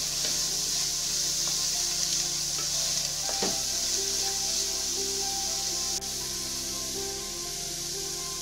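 Ingredients sautéing in a pan until wilted while making upma from ration rice, a continuous close hiss of frying with scraping stirs and a metallic clink partway through.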